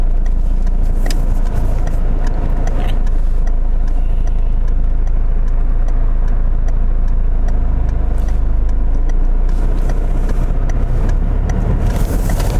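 A car's engine hums steadily while driving on roads around Mold and Deeside, a loud continuous low drone with road roar heard from inside the cabin.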